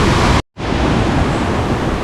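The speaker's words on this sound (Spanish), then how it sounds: "este es el río Buritaca" Rushing water of the Buritaca river near Ciudad Perdida in Colombia's Santa Marta region, a loud, steady broadband roar close by, cut by a brief dropout before it resumes.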